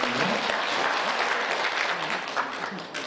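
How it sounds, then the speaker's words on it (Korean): Audience applause at a symposium on the Daedeok research district, a steady dense clapping from a seated crowd held at even loudness throughout, easing slightly near the end. "여러분, 큰 박수로 맞이해 주십시오."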